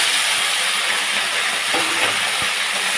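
Jute greens drop into hot oil with browned garlic and set off a loud, steady sizzle that holds through the whole moment, with a few soft thumps from the greens landing in the pan.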